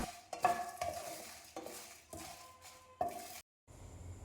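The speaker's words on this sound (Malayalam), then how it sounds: "ഇനി ഒരു കൈപ്പിടി നിറച്ച് ഉഴുന്ന് ചേർത്ത് കൊടുക്കുന്നുണ്ട്. അതും കൂടിയിട്ട് നന്നായി വറുത്തെടുക്കണം." Coriander seeds and urad dal are dry-roasted and stirred in a pan, with short scraping and rattling bursts separated by pauses, close, ending in a sharp loud knock.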